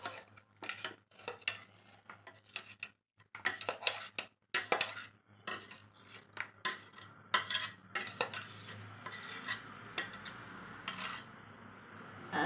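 Spinach puree is worked into wheat flour dough in a bowl, giving quiet, irregular bursts of rubbing, scraping and clinking as a utensil stirs and mixes, with short pauses between.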